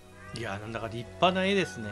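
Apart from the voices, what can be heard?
cat meowing in the video game Monster Hunter Rise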